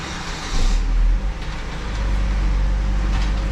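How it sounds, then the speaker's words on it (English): A 2011 Saab 9-5 engine starts inside a garage, a brief crank giving way to a steady low idle rumble close by. "turn the car on"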